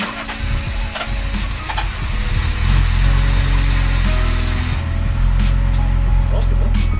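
BMW 520i E34 engine cranks with a rapid churning whir, then catches and settles into a rough, close idle while voices speak briefly over it.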